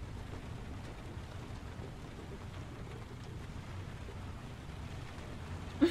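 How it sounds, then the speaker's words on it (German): Steady rain from the video game Heavy Rain, a continuous low wash of downpour that stays even throughout with no voices, ending in a brief louder knock. "Es regnet."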